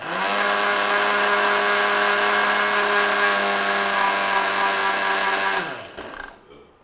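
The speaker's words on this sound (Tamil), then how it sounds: "இதை அப்படியே ஒரு கிரைண்ட் பண்ணி எடுத்துகிட்டு வந்துக்கலாம்" Mixer grinder running steadily as it grinds boiled onions into a fine paste, a loud high motor whine held for several seconds before it switches off and winds down.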